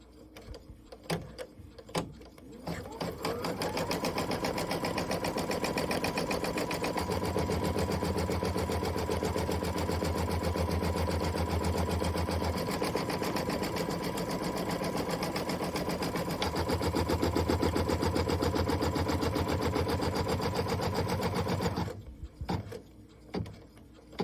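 An embroidery machine stitches a background piece held in a hoop, running as a loud, steady mechanical whir for most of the stretch before stopping near the end, with a few clicks before and after.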